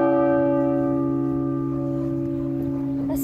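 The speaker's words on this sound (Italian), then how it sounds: "il tocco della campana grande" The large bell in the bell tower of Campertogno church rings close by, one sustained toll with a rich humming tone that decays slowly across the whole stretch.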